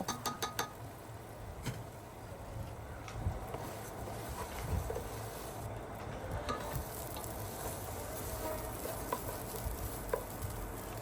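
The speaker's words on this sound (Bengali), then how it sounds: "যে মশলাটা রয়েছে সেখানে আমি পোলাও চাউলটা ভেজে নিব" Pulao rice fries in spiced meat fat for a Puran Dhaka white tehari, giving a moderate, continuous sizzle with frequent stirring clicks and scrapes from a spoon against the pot, close and steady throughout.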